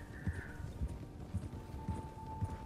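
Horse hooves in Red Dead Redemption 2, a Tennessee Walker clip-clopping at a steady walking rhythm, close and clear, with a faint tonal hum in the background.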